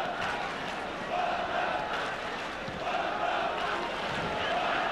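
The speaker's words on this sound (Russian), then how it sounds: "Стадион Жозе Алвалада слышит клич спартаковских болельщиков" Spartak supporters chant in the stands of José Alvalade stadium during a 2001 Champions League group match against Sporting, a steady, distant wash of massed crowd voices that swells and ebbs rhythmically.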